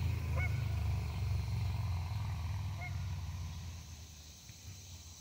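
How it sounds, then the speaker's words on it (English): Geese honking over open water at sunset, a few brief distant honks against a low rumbling background that gradually fades. "There's geese right there."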